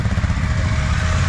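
Several motorcycles arrive together during the Pavia Sanremo off-road rally, a steady close engine drone with low rumbling pulses and no voices over it.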